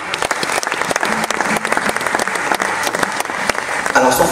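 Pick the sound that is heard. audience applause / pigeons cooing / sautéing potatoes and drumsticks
audience applause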